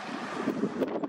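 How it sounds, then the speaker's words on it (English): Strong gusts buffet the microphone at an outdoor osprey nest site by a skatepark, a steady roaring rumble of wind with brief louder surges, no voices. "it's so windy out"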